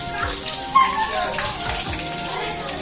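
Water falls and trickles inside a house wall as a steady, fairly loud splashing. Someone may be talking quietly underneath.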